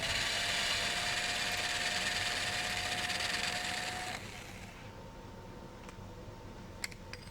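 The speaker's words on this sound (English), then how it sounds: "Drill and rivet the aluminum bushings to the airframe as shown." Drilling aluminum bushings on a Rotorway Exec 162F helicopter airframe makes a steady, loud, whining drill noise that cuts off midway, leaving a quieter hum broken by a few sharp ticks and clicks.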